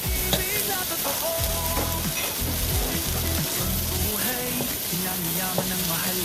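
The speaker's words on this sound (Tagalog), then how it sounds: "Gisa-gisa lang tayo. Halo-halo." Onion and tomato sauté in a hot pan with a steady sizzle, punctuated by scraping stirs and soft clinks of a utensil, close up and without talking.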